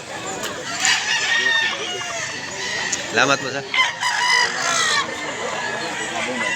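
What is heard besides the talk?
White Kelso roosters crowing and clucking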